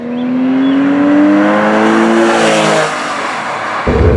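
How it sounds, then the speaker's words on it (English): Porsche 911 of the 996 generation revs sharply during a rev-matched downshift, the engine note climbing and holding loud and close for nearly three seconds before dropping off, with a brief mechanical clunk near the end. "It's so easy to rev match because the transmission revs so predictably and so quickly."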